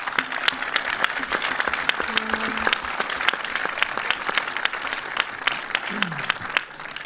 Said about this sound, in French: je vous demande de les applaudir parce que c'est pas facile dans ce pays